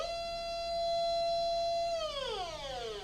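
A flammable methane gas detector sounds its alert as one steady, loud electronic tone that holds for about two seconds, then slides downward as it fades.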